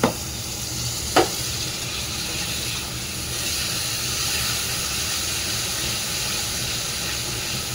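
Taro fries in a pan with a steady, broad sizzle and hiss that holds on evenly, broken by a couple of brief knocks near the start.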